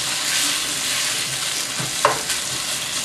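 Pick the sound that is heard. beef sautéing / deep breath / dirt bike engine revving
beef sautéing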